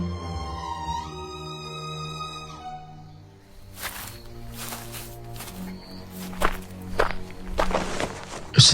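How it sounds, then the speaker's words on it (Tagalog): Footsteps crunching through a forest at night, faint and irregular at first, then growing closer and louder over a bed of tense orchestral music, with sharper thudding steps near the end. "May mga yapak tayong kasabay."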